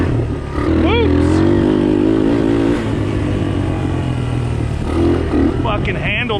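A Honda Fat Cat motorbike found in a barn and ridden in first gear, its engine droning loud and close with a rising rev near the start and a steady rumble after, plus clattering and wind noise.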